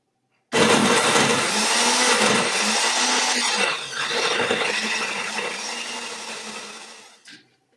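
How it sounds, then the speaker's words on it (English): An electric blender whirs loudly and steadily as it purees salmorejo, a cold tomato soup with garlic, starting abruptly and running for about seven seconds before cutting off, no talking. "And we blend again, patiently."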